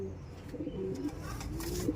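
A derby racing pigeon coos softly in low, drawn-out notes, fairly faint against a steady background murmur.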